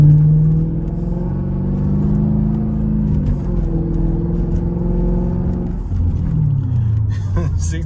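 A Mercedes SL500 pulls away hard on a wet road, breaking traction at takeoff, its engine rumbling loudly and steadily and rising toward the end, heard from inside the car.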